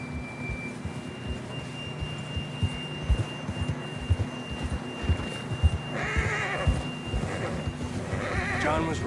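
A horse neighs and snorts amid thudding hoofbeats and a low ambient hum, with a couple of louder whinnies toward the end, in the video game Red Dead Redemption 2.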